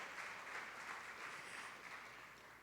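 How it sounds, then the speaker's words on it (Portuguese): Congregation at a Brazilian family celebration service applauding the actors, a steady, fairly faint and distant patter of many hands clapping that holds evenly throughout. "Um aplauso para os nossos atores aqui, parabéns."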